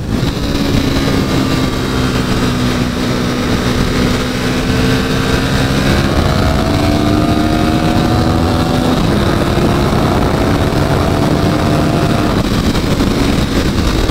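An Aprilia RSV 1000 Mille sport motorcycle engine drones loudly and steadily up close, its pitch climbing and shifting in stages as the revs rise and fall against the rev limiter.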